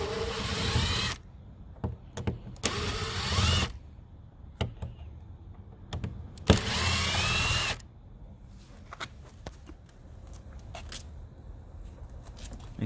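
A power driver fitted with a T20 Torx bit spins out screws from a Mercedes W216 CL-class passenger side mirror, three loud whirring bursts separated by quiet gaps with small clicks and handling noises.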